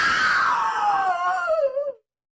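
A woman screams loudly in a Hindi crime audio drama. The long, piercing cry slides downward in pitch for about two seconds, then cuts off into silence.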